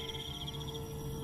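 Crickets chirping in a dark field at night, a steady high pulsing trill over a constant low hum, fairly close, with no voices.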